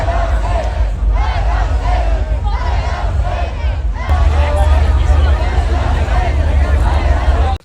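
A large festival crowd at Electric Zoo in New York turns angry and unruly, a loud roar of massed shouting and yelling voices that surges louder partway through and keeps going without a break.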